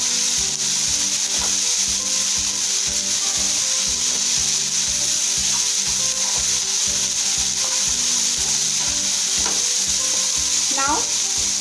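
Vegetable momo stuffing seasoned with salt and red chili powder cooks in a pan over a medium flame, giving a steady, close hiss of frying with faint scraping stirs throughout.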